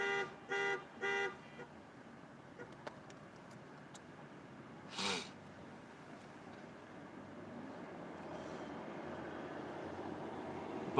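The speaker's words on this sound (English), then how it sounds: "This car's horn is like messing up every other honk." A car horn gives three quick faint honks at the start, then a single short honk midway, against a quiet, distant background hum.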